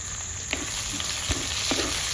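Ground onion paste with curry leaves sautéing in a clay pot, a steady soft sizzle with a few faint scrapes of stirring, close and alone.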